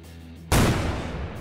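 A bomb explodes on impact in Garry's Mod: quiet game ambience is broken by one sudden, loud, booming blast that rolls and fades over the next second.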